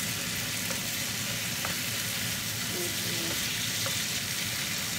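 Tomatoes cooking in a pan, a dense, loud, unbroken sizzle hiss with a few faint clinks.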